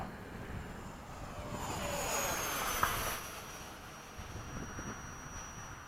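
A radio-controlled F-104 model jet runs its engine at a flying field, a steady high whine that swells and fades as it passes at a distance, with no talk over it.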